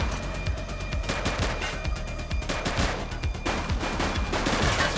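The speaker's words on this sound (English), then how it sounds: "He's shooting!" Sustained gunfire rings out in the police video game The Precinct, rapid overlapping shots popping in a steady rattling stream for several seconds, loud and close with no voices over it.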